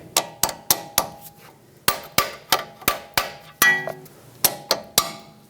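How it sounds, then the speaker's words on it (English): Metal hammer taps on a front strut of a 2013-2020 Nissan Pathfinder, knocking it free: a run of about fifteen sharp, ringing strikes in quick irregular bursts, close and loud with no voices. "Give this a couple taps, try to break it free."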